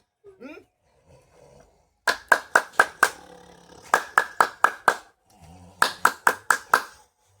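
Several bursts of sharp, close hand claps, about five quick claps per burst in three separate runs, with brief quiet gaps between them, heard in a Maithili comedy sketch.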